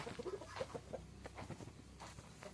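A chicken clucks in a quick run of short, close calls at the start, then fainter rustling and background noise follow.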